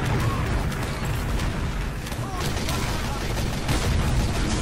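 Repeated grenade blasts from a Loose Cannon fired by a Demoman in Team Fortress 2, a dense, constant barrage of pops and booms with gunfire mixed in, loud throughout.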